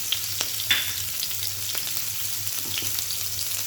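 Green chillies fry in hot oil with cumin and mustard seeds for aloo paratha filling, an even hissing sizzle with light crackles and a few faint stirring taps, close and steady with no speech.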